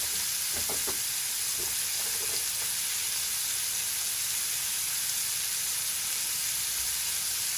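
Thick lamb chops sizzle in a hot pan before grilling, a steady crackling hiss that runs evenly throughout, fairly soft, with a few faint pops near the start.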